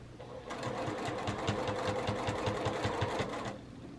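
Sewing machine stitching straight-grain binding around a curved quilt corner, a close rhythmic burst of rapid needle strokes over a humming motor lasting about three seconds, with quieter handling before and after.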